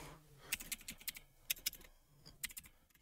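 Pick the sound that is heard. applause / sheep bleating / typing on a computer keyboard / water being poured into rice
typing on a computer keyboard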